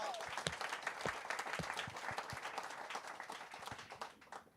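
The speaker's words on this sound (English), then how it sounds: "Let's give him some applause." An audience applauds steadily, a dense patter of many hands clapping that fades out toward the end.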